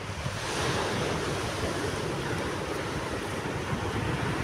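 Ocean waves at a beach in Kochi make a continuous roar of surf, with heavy wind buffeting the microphone and no voices.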